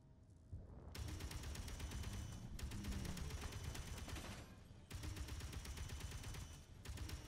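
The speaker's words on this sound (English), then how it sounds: "I'm taking a lot of bullets. I got like hidden turrets." Hidden turrets in the Space Engineers video game fire at the player in long, dense bursts of rapid gunfire, broken by brief pauses between volleys, with no voices.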